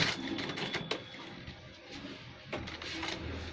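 A sewing machine stitches a gents shirt collar near the buckram, giving short bursts of rapid mechanical clatter broken by brief pauses, close and fairly quiet, with no talking.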